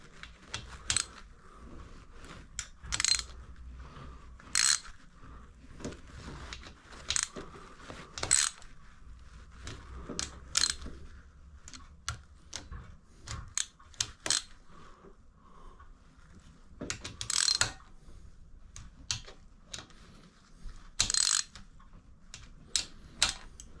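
A ratchet wrench snugs down bolts on a motorcycle build, giving close, crisp clicking in short irregular bursts separated by pauses, with no talking.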